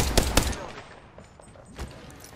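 Gunfire in Apex Legends: two sharp, loud shots in quick succession at the start, followed by quieter scattered reports and one more distinct shot near the end.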